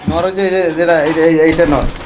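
Fancy pigeons coo in low, rolling throaty calls close by, overlapping with people talking throughout.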